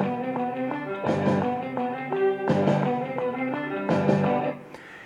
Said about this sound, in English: You have that pre-recorded track with the click